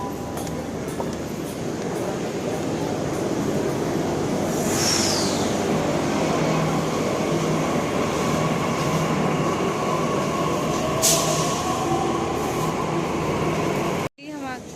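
A metro train stands at the platform, then rumbles steadily along the track, with brakes or wheels squealing briefly and a loud whoosh near the end; people talk faintly underneath.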